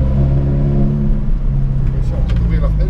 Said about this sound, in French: Ah là là, ce bruit à l'échappement là